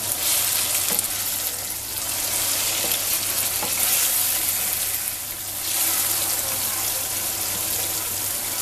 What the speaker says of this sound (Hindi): स्पाइसेस को अच्छे तरीके से आपने फ्राई करना है।